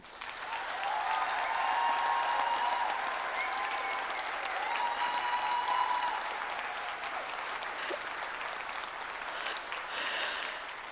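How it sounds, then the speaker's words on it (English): A debate audience claps to vote for the affirmative team, a long sustained wave of applause from a large crowd that swells early, holds steady and tapers slightly near the end. "start clapping now."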